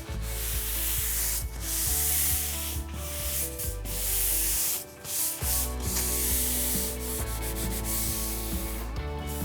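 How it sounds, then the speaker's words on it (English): Light sanding across a wooden furniture top being prepped for painting, close and continuous rhythmic rubbing strokes with brief pauses between passes, no voices. "So I'm going to give the whole top a light sanding."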